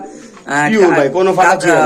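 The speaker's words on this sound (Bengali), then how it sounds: "একদম ম্যাকপাই কবুতর আসলে ম্যাকপাই কবুতরের কালারটা এতই সুন্দর" Magpie pigeons coo among a group of fancy pigeons, their soft calls mixed with someone talking close by throughout.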